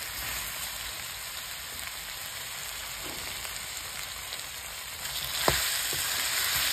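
Chicken with banana flower sizzles steadily in a pan, a constant bright frying hiss with a brief louder crackle and scrape as it is stirred near the end.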